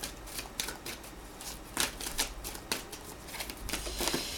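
Tarot cards being shuffled for a January card draw give a steady run of close, papery riffles and flutters, with sharper slaps now and then, heard alone and without talk.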